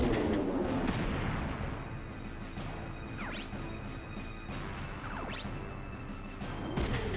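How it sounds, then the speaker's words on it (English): Missile launches and blasts in the mecha strategy game Front Mission 3, with sustained explosive rumble, several sharp booms and rising whistling streaks of missiles in flight, dense and loud throughout. "Why are they so determined to fire missiles at Kazuki?"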